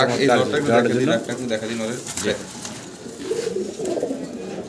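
Caged farm pigeons coo and call repeatedly at close range, their rolling calls mixed with someone talking over them.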